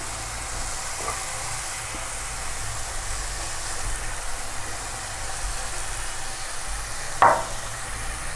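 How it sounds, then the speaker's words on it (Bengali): Katla fish pieces sautéing in oil over a lowered gas flame give off a soft, steady sizzle, with a single sharp clack near the end. "এরপরে আমরা মাছগুলো কষিয়ে দেবো"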